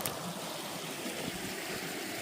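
Water rushes through a breach dug by hand in a forest beaver dam. It makes a steady, fairly loud gushing stream with no talk.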